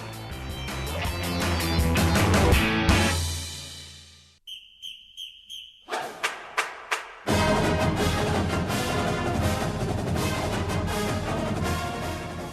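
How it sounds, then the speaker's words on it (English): A brass-heavy band plays the UMass fight song, a rousing march, breaks into a few sharp whistle blasts and punchy hits, then launches back into full, loud music. "that is the sound of the UMass fight song"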